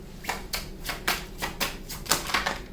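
Tarot cards being shuffled by hand during a reading, heard as a steady run of close, crisp riffling bursts at roughly half-second intervals.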